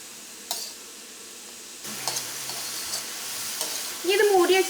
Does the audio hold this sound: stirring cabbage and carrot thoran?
yes